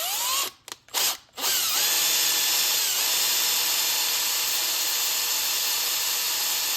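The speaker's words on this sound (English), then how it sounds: "I'm gonna drill holes here and here to match up with the gang box." A power drill fitted with a 9/64 bit bores screw holes to line up with a gang box while a smoke detector base is mounted. Short trigger bursts come first, then a sustained loud, close whine with no talking.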